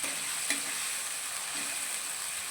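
A ginger, cumin and whole coriander paste sizzles in hot oil in a pan, a steady, close frying hiss with a faint stir or two and no voices.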